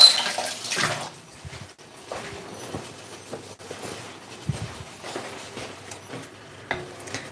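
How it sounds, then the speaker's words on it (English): Hands being washed under a running kitchen tap, with splashing water and uneven rubbing bursts, close and fairly loud, plus a few clatters of dishes nearby. "just gonna wash my hands."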